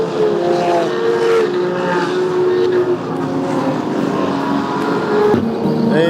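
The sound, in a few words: race cars accelerating at green flag, Circuit of the Americas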